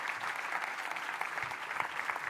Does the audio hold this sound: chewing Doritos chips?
no